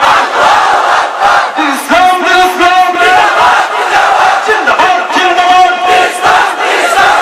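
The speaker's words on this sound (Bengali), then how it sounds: "সবাই মিলে একই তালে দাও না স্লোগান" A large crowd roars a slogan together at a rally, with massed voices rising and falling in loud, rhythmic unison over about seven seconds and no pauses.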